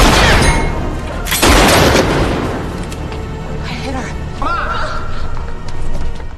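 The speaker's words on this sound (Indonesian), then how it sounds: "menembak dari lantai atas" Gunfire from an upper floor in a film scene, a loud burst of rapid shots and crashing impacts early on, followed by ringing tones and dramatic effects.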